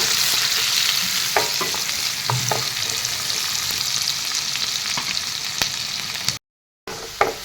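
Onion and garlic fry loudly in hot oil in a pan, a dense, steady sizzle with occasional sharp crackles, cut by a brief silent gap near the end.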